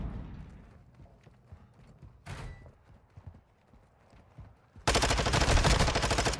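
Sentry gun fire in the Call of Duty DMZ video game, a loud sustained burst of rapid automatic shots in the final second and a half, after quieter game sounds and scattered movement noise.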